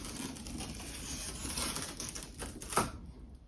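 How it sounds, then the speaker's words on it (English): Plastic tape is peeled off a new Roku 4K smart TV. It makes a faint, rapid crackling patter that ends in a sharper snap near the close. "Now I'm going to remove the plastic tape before plugging in the machine."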